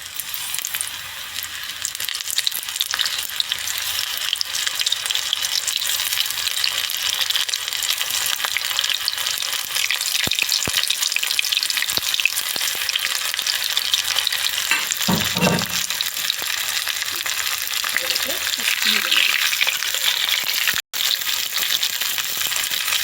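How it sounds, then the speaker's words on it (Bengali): Prawns deep-frying in hot oil in a wok, a dense steady crackling sizzle close by, with a few utensil clinks and stirs partway through. "এবার এটা ডুবো তেলে ভেজে নেব"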